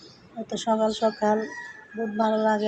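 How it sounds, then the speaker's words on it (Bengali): Chickens call and cluck in the early morning, with several short bursts near the listener mixed in with someone talking. "মুরগিও ডাহে"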